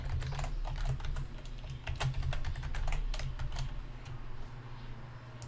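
Rapid, steady keystrokes on a computer keyboard as a password is entered, close and continuous over a low electrical hum, with no voices.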